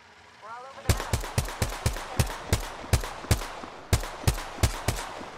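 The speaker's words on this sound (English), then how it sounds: "Listen up, I'm getting shot at." Rapid gunfire in Apex Legends during a quads match: a steady burst of about a dozen sharp, evenly spaced shots, loud and close, with a brief voice heard just before the firing begins.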